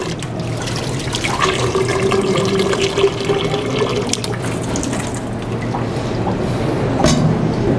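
Tap water runs steadily into a kitchen sink during a chef's cooking demonstration, a continuous broadband rush with a brief louder splash near the end and no talking.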